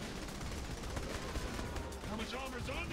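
Gunfire in the video game Saints Row: The Third, fairly quiet shots and bursts buried in a dense, noisy game soundscape, with a voice talking over part of it.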